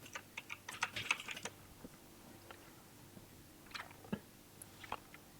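Keys on a computer keyboard tapped in short bursts, with a quick cluster of clicks followed by scattered single presses, close and fairly soft with no talking.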